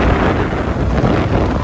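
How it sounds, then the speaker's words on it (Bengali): Wind buffeting the microphone while riding a motorbike on a highway, a loud, steady broadband rush with no talk. "হালকা বাতাস"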